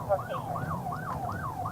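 Emergency vehicle siren wailing in a steady rising and falling cycle at a police scene in Baltimore County, moderately loud and continuous with no talk over it.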